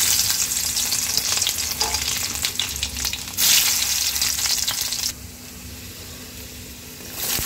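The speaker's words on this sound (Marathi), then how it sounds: "कढई झालेली आहे गरम, त्याच्यामध्ये मी टाकलं आहे तेल" Cumin and garlic hit hot oil in a kadai with a loud, close, continuous sizzle that swells briefly, then drops to a quieter fizz near the end, with no talking.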